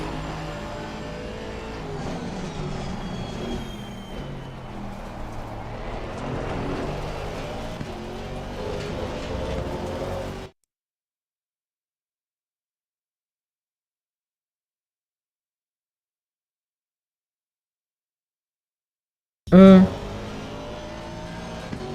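AMG GT4 race car at Spa in Assetto Corsa Competizione, a steady engine roar with gear shifts for about ten seconds, then an abrupt cut to silence before the sound briefly returns with a sharp burst.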